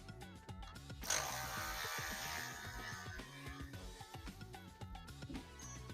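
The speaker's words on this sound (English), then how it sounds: "We're just going to remove the factory bolt." Removing the factory bolt from a rear bracket on a Jeep JK, a loud, sustained power-tool whir starting abruptly and running for several seconds at close range, fading to mechanical rattles afterward.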